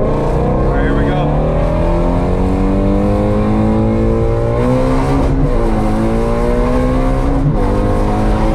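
Manual-transmission car accelerating on the road, its engine note rising through the revs with gear shifts at intervals, loud and close from inside the cabin.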